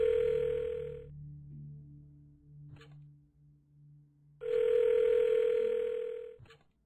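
Telephone dial tone from a phone in the Cube Escape: Paradox video game, a steady electronic tone that stops after a second, gives way to quiet clicks and a low hum, then returns loudly for about two seconds before cutting off.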